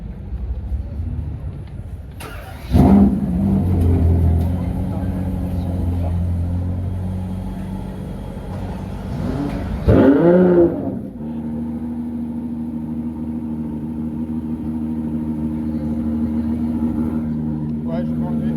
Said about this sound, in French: Deux Porsche.